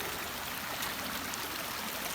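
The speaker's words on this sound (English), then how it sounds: "So again, there's another tributary creek" A flooded tributary creek on a farm rushes past in a steady, even roar of flowing water, close and continuous with no voices.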